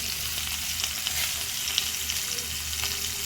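Onions and peas frying in a pan for a Maggi masala egg omelette: a steady, dense sizzle and crackle that holds close and even throughout, with no voices.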